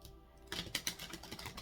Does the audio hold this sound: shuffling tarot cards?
yes